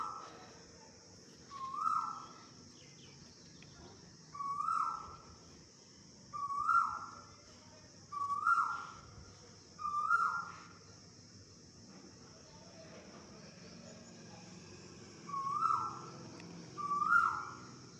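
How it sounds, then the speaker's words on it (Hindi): Birds and a koel call outdoors in the morning: a clear, rising call repeats about every two to three seconds, pauses briefly, then returns twice more over a faint background. "चिड़िया कोयल कुछ ना कुछ बोलती सुनाई शायद आपको देती होगी"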